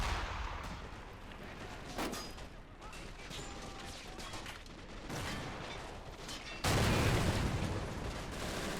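Distant gunfire and artillery in the World War II strategy game Men of War, set in the Battle of Narva, come as scattered shots and booms over a rumbling battlefield backdrop. A heavier blast arrives near the end.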